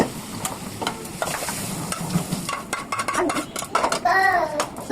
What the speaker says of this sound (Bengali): চুলোতে জিরা ভেজে নিচ্ছি, একটু জিরা, চিংড়ি মাছ জন্য একটু জিরা ভেজে নিচ্ছিলাম